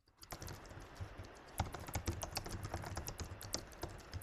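Rapid typing on a computer keyboard, a steady stream of dense clicky keystrokes with occasional heavier taps, close but fairly quiet and with no speech.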